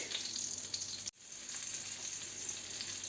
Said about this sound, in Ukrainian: і смажиться